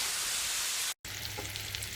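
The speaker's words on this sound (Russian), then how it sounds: "Котлеты жарю на дачу." Meat cutlets frying in a pan give off a constant close-up sizzle with soft crackles. The sound cuts out for a split second midway, then resumes just as before, with nobody speaking.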